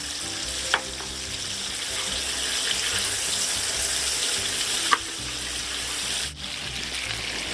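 A frying pan sizzles steadily just after pepper goes in, a constant loud hiss with a couple of small clinks, close up and no voices.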